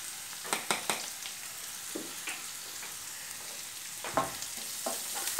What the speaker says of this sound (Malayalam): നമുക്ക് സവാളയും അതുപോലെ കറിവേപ്പിലയും ഇതിലേക്ക് ചേർത്ത് ഇളക്കാം